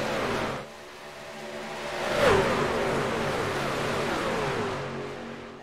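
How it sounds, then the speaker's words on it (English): Race truck engines roar around Daytona International Speedway during an IROC Series Dash For Cash, a loud, sustained engine drone that swells as the trucks pass near and then holds steady without any commentary. "I think it's time we hear the roar of the motors and cut the voices off."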